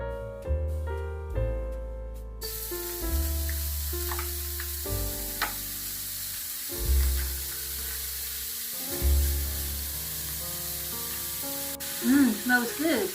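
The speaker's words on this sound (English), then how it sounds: "So I'm just going to start the onions off to fry," Onions fry in a pan with a steady, soft sizzle that carries on throughout, with tonal sounds in the background and occasional bumps from stirring.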